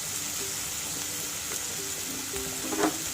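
Onion with turmeric powder sautéing in a pan for stuffed idli, a steady close sizzle with light stirring scrapes and a small flurry of clinks near the end.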